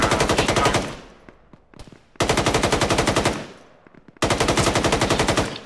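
Machine gun fire in a military video game, rattling out in three long sustained bursts separated by short pauses, loud and close with no voices.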